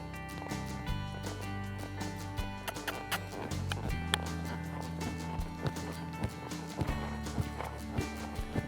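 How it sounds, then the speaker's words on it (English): Horse hoofbeats at a slow lope in a ranch riding arena during a non-pro reined cow horse event, a steady rhythmic clip-clop of hooves close by over a loud, busy background. "He's getting the hang of it a little bit at a slow lope"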